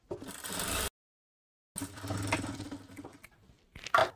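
A sewing machine stitches a decorated lining strip onto a kaliyon lehenga in two short runs separated by a silent pause, the whirring stitching close and moderately loud, ending with a brief clack.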